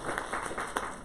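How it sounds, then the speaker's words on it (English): Brief applause from an audience at an education conference session, a short burst of clapping at moderate level, fairly close and with no talking over it. "Applause."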